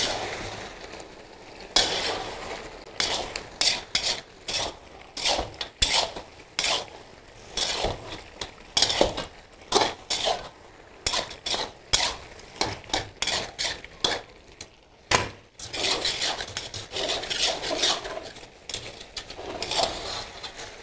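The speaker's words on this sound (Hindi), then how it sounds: "और इस सारे को मिक्स कर लेंगे और अच्छे से भून लेंगे।" Beef chaap frying with turmeric and spices in a pan, stirred with a metal utensil: repeated scraping and clanking strokes against the pan over a soft sizzle, close and without talk.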